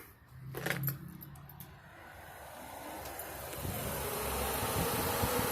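Electric 16-inch eBay radiator fan fitted in the stock shroud of a Nissan D21 Hardbody truck with a KA24E engine, switched on and spinning up into a steady whooshing hum that grows gradually louder.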